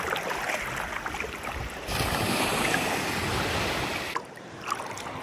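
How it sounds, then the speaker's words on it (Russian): Black Sea surf washing in at the shore, a broad steady wash of breaking waves that swells louder partway through, with wind buffeting the microphone and no voices. "Смотрите, волны поднимаются."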